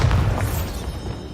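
The Bombarda explosion spell goes off in Hogwarts Legacy with a single deep, muffled boom that thumps at the start and then decays into a low rumbling tail.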